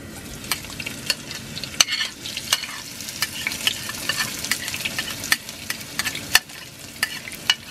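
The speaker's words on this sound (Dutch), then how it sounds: "Voor het fruiten van de knoflook en de ui, de witte ui, gebruiken we zonnebloemolie." Garlic and white onion fry in sunflower oil for a Surinamese yellow split pea dahl, a continuous crackling sizzle broken by sharp stirring clicks and scrapes.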